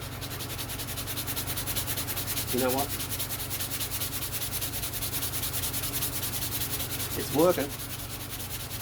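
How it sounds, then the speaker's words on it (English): A continuous rough scraping of a sanding sponge on wood for a cigar box guitar runs throughout, fairly loud and even, while a person speaks briefly twice over it. "So I've got this sanding sponge here."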